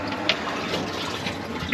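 A washing machine fills with water for a low-level wash during off-grid laundry, giving a steady rushing, trickling flow heard close up with no voices.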